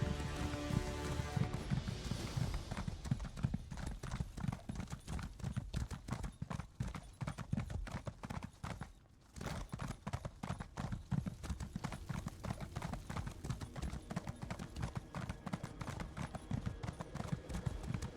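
Horse mount hooves in Elder Scrolls Online clop in a fast, steady galloping rhythm throughout, loud and close, with a brief dip midway, laid over dense game music and ambience.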